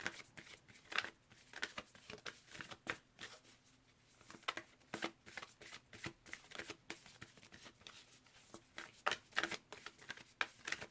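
Rapid riffling bursts of cards being shuffled repeatedly, crisp and close, coming in irregular clusters with short pauses between.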